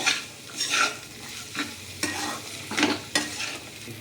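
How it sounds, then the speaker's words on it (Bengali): Potato filling fried with spices in a pan for masala dosa, a low sizzle broken by repeated scraping stirs of a spatula, close up, with no talking. "ভালো করে ভাজা মশলার সাথে একসাথে আমি এগুলোকে আলুটা দিয়েও একটু ভালো করে ভেজে নেব।"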